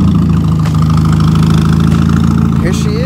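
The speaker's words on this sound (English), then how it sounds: "I don't know what kind of exhaust it has, or it just got a really bad exhaust leak" Mini Cooper engine idling with a loud exhaust leak, a close, steady, throbbing rumble with a rapid putter that stays unbroken throughout.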